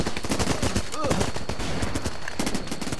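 Rapid, dense gunfire crackles throughout a battle in the video game Running With Rifles, with overlapping bursts and shots from several weapons at close and middle distance under a busy mix.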